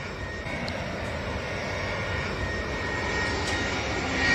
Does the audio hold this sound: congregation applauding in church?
no